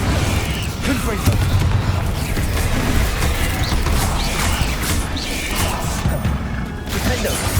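A Confringo blast spell explodes in Hogwarts Legacy, part of a dense, continuous battle din of crashing impacts and rumbling booms that holds loud and steady throughout.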